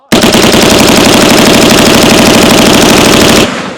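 A Geissele Super Duty HBAR rifle, running too hot, fires in one continuous, very loud rapid burst of shots, close up, for over three seconds before stopping abruptly.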